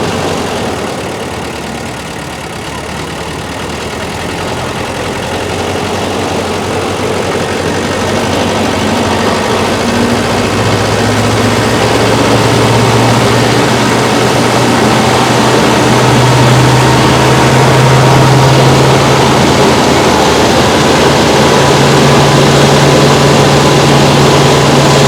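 An embankment mower's engine runs continuously while the machine drives along, a steady loud low drone that slowly builds, with a low rising tone coming in partway through.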